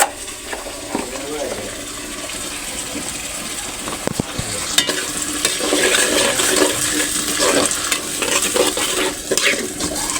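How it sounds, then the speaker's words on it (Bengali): Onion, garlic, cumin and ginger paste frying in a pan gives a continuous hiss that grows louder midway, overlaid with irregular scraping and stirring knocks throughout. "এটি ভালোভাবে নেড়ে নিতেছি"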